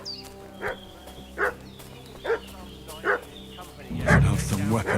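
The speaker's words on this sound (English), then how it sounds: "What's that dog making such a fuss about?" A dog barks in Kingdom Come: Deliverance II, four single woofs at a measured pace, then a louder cluster of barks at the end, all set against a quiet outdoor game backdrop with someone speaking.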